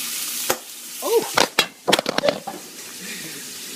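Bacon frying in a pan gives a soft sizzle with sharp, scattered pops and crackles, a few loud bursts close together mid-clip, while a voice briefly exclaims.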